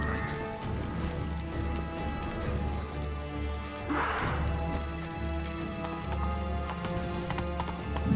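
Hooves of Roach, a horse in The Witcher 3 game, clip-clop in a steady trotting rhythm, close and clear over a low rumbling game soundtrack, with a brief whinny-like swell partway through.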